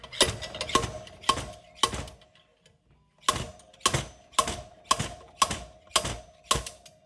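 Ratchet tool clicking in bursts while screwing a puller in to remove a wheel bearing from a Honda CRF450 dirt bike wheel; loud, close, rapid ratcheting strokes, a short pause, then more even strokes.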